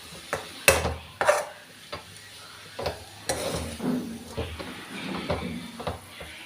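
Mulberry leaf thoran with grated coconut being stirred in a pan with a spoon: a series of scraping, knocking spoon strokes against the metal, with a faint sizzle between them and no talk.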